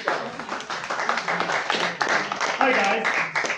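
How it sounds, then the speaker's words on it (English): Audience clapping for a speaker at a talk, brisk uneven handclaps from a modest crowd, fairly close, with a voice speaking over part of it. "Please, a big applause to Carlos."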